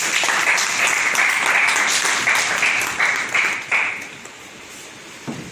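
An audience claps loudly and densely at a talk held at a drug rehabilitation centre in Kanpur, the applause holding steady for several seconds before thinning out into a few scattered claps.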